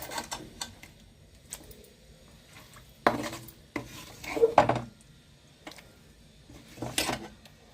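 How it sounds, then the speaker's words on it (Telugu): Tamarind rice (pulihora) is mixed in a pot with a spoon, making soft scrapes and clinks of metal on metal in irregular bursts, with quiet gaps between strokes. "ఇప్పుడు పులిహోర కలిపేసుకుందాము"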